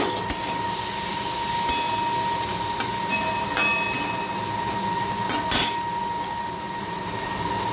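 Chopped onion, ginger and garlic go into a hot pan with bay leaf while making Maggi soup, giving a continuous sizzling hiss with a few sharp clinks of a utensil.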